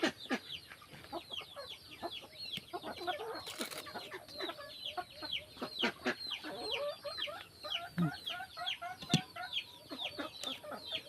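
A busy chorus of chickens and ducks clucking and chattering nonstop, fairly close, with no voices.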